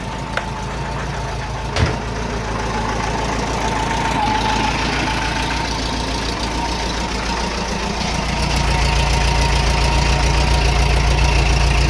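A Volkswagen Type 4 Beetle engine fitted with an old turbo muffler idles in a steady, low, even rumble with a faint knocking texture, growing slightly louder and deeper toward the end, with no voices.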